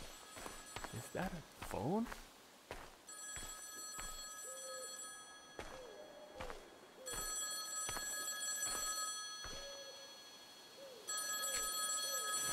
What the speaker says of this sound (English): there shouldn't be a phone ringing here